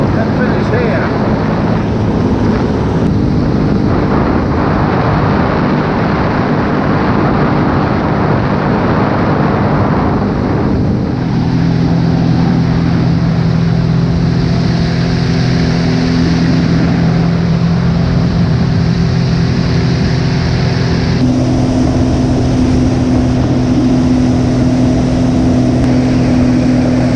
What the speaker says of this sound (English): I've just had Keith ride this jet ski up the river